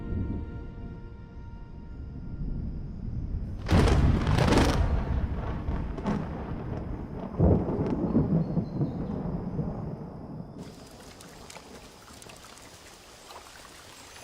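Over the mountains of Mozambique, a thunderstorm with rain delivers sharp, loud thunder cracks and rumbles against steady rainfall, with the rain hiss intensifying toward the end and no speech.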